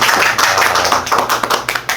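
A crowd claps in a dense, steady burst of applause lasting a couple of seconds, loud and close, with no voices over it.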